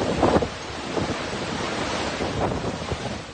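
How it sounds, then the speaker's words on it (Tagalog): Strong wind and rain from Typhoon Emong lash La Union in a continuous roar of gusts and downpour, with surges that rise and fall and no voices. "Ganito kalakas ang ulan at hangin na dala ng Bagyong Emong sa La Union sa nakalipas na magdamag."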